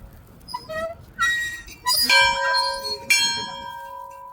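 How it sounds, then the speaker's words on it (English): The peace and liberty bell at Luray Caverns rings out loud and clear in two strong strikes about a second apart. Each strike leaves a long, shimmering ring, after some lighter chimes at the start. "Ring the bell for peace and liberty."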